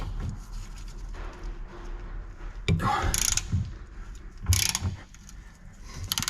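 A half-inch ratchet loosening corroded 21mm subframe bolts on a Nissan Qashqai, with close rapid clicking pawl bursts and a few louder metallic creaks and clunks as the bolts break free.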